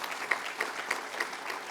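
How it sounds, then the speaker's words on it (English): An audience at an international research conference on insolvency and bankruptcy applauds, steady moderate clapping from a room of people with a few sharper claps standing out, alone without talk. "So a big round of applause for"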